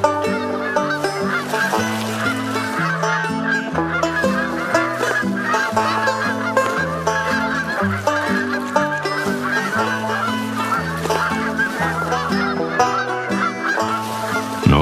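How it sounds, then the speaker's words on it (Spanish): Migrating geese flying south along the Mississippi River, a dense, continuous chorus of honking calls that carries steadily through the whole stretch with no talking. "observó cómo las aves emigraban hacia el sur, guiándose por el río Mississippi,"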